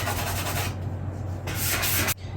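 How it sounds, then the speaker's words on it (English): A sanding block rubs back and forth over primer on a laminate countertop in steady, close, scratchy strokes, with brief pauses between passes and no talking. "I'm taking off a lot of primer by sanding too much."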